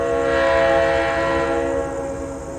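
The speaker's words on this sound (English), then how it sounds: "Yep, that was the horn." A freight train's horn blares loud and close in a long sustained chord, then fades slightly as it carries on over low rumbling rail noise, with no talk.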